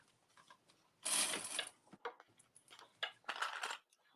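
A sewing machine top stitches a circle bag in quick, close bursts of rapid mechanical stitching, with short pauses between runs and no talk.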